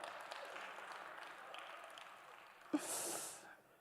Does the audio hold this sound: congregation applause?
yes